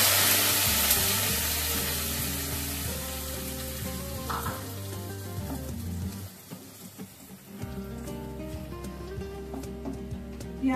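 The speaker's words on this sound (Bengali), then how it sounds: "পেঁয়াজটা ভালো করে কষাতে হবে।" A paste of onion, garlic, ginger and green chilli sizzles loudly in hot oil for a Bengali paneer tikka masala, with a steady frying hiss and occasional stirring scrapes. The hiss fades somewhat toward the end.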